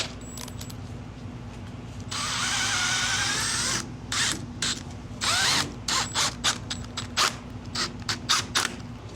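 Power drill driving screws to fasten pipe clips to a wall, a loud close whirring run followed by a series of short stop-start bursts of the motor, with no talking.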